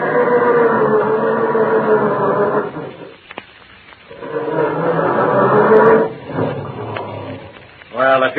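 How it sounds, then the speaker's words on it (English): A car engine cranks slowly and heavily on a frosty November morning, with two long labored grinding bursts and a short pause between them, heard through thin, muffled old-radio sound. "how does your motor sound when you try to start it on these frosty November mornings?"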